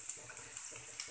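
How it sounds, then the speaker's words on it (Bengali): Chopped okra tipped into a pan of softened onions and green chillies, a steady close hiss of frying oil running throughout with faint stirring clatter beneath it. "পেঁয়াজটা একটু নরম হয়ে আসলে এখন আমি ঢেঁড়সটা দিয়ে দিব"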